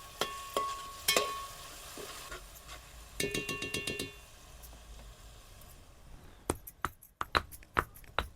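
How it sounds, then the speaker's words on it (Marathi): Tomatoes and onion sautéing in a pan for an egg dum biryani gravy, with scattered clinks and scrapes of stirring, some sharp bursts, under a low sizzle and no talking. "टमाट्याचं कच्चापणा जास्तपर्यंत परतून घ्यायचं आहे टमाटर चांगलं"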